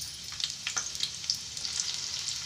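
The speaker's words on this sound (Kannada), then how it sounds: "ಇಲ್ಲಿ ಕಟ್ ಮಾಡಿ ಇಟ್ಕೊಂಡಿರುವಂಥ ಆನಿಯನನ್ನು ಅದಕ್ಕೆ ಹಾಕಬೇಕು ಫ್ರೆಂಡ್ಸ್" Chopped onion dropped into a spoonful of hot oil for a fish curry, crackling and sizzling steadily up close, with faint stirring and no voices.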